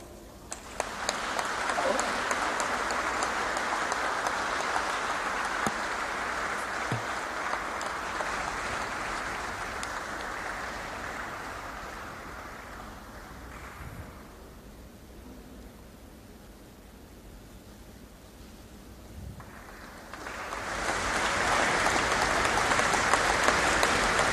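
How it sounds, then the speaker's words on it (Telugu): Sustained applause from a large audience at a national award ceremony for a film actor, loud and dense throughout, dipping in the middle before surging back; voices are faintly mixed in. "చిరంజీవి పేరు రాగానే ఆ ప్రాంగణమంతా చప్పట్లతో మార్మోగిపోయింది"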